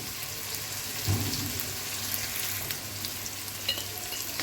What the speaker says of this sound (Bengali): একটু কষিয়ে নেব হলুদ গুঁড়া দিয়ে দিব লবণ দিয়ে দিব সামান্য পরিমাণে জিরা গুঁড়ো দিয়ে দেব